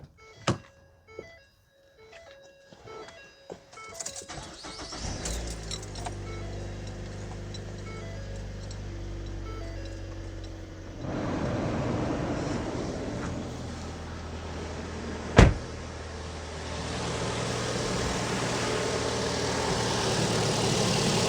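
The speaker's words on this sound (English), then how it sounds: "So we are going to start the engine now." A 2012 Ford Fusion 2.5 engine cranks with a few short thumps, then starts and settles into a steady, fairly loud idle that rises in intensity partway through, with a sharp clunk near the end.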